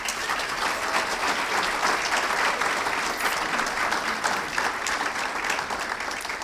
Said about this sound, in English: I just had to remind John he should start clapping.